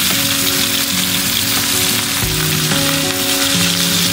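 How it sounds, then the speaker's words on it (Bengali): Fresh rohu fish frying in oil, a dense, loud, close sizzle that runs unbroken, with faint tonal background noise and no talk. "এখানে একদম ফ্রেশ রুই মাছ ভাজা আর বাজে।"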